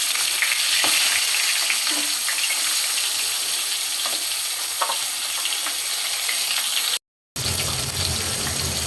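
A fish head sizzles and spits in hot mustard oil in a pan, a steady close crackle that runs for several seconds with a brief dropout near the end.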